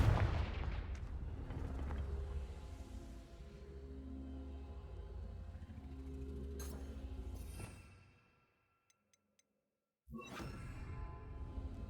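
Confringo fire-blast spells cast in Hogwarts Legacy produce loud booming explosions with whooshing tails, rolling for several seconds before cutting to near silence, then another sharp blast bursts in at the end.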